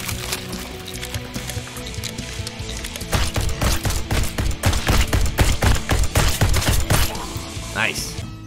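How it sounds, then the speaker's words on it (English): Rapid gunfire from a tower defence first-person shooter as zombies are shot down: dense, rhythmic bursts of automatic fire that grow louder and steadier in the second half, layered over background game sounds. "it's satisfying to be shooting these zombies"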